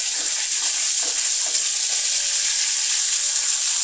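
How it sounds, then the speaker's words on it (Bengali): Fish frying on a tawa gives a steady, bright hiss that stays close and even throughout, with a few soft clicks and no voices. "মাছগুলাকে আমি তাওয়ার মধ্যে দিয়ে দিলাম। এক পিঠ ভেজে নেওয়ার পর আমি মাছগুলাকে উল্টিয়ে দিব।"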